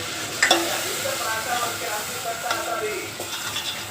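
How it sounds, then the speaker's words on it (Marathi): Green coconut masala paste of fresh coconut, poppy seeds, ginger, garlic and coriander roasts in oil, sizzling steadily at moderate volume with a few sharp scraping knocks of a spoon against the pan. "आता हे मसाला छान भाजून घेऊया तेलामध्ये"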